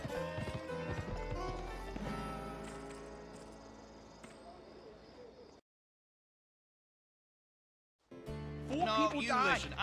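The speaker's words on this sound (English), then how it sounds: "Riding your horse too hard." Galloping horse hooves in a video game, a steady clip-clop under music and voices for about five seconds, then silence, then louder game audio returning near the end.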